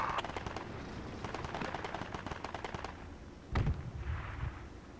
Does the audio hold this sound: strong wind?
no